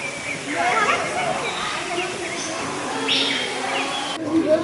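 Birds chirp and call in a tropical house at Copenhagen zoo, with scattered high notes over a hissing indoor background, while people talk nearby.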